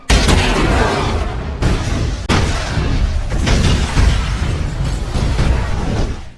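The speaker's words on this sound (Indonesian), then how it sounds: "Seketika tempat itu pun meledak." A bomb explosion from an action film roars as a loud, sustained rumbling blast lasting several seconds, with a few sharper bursts and debris-like crackle running through it.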